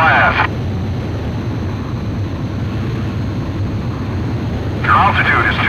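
A jet fighter on its landing approach in Ace Combat Zero: a steady, loud engine roar drones throughout, with brief radio-like voice bursts at the start and end.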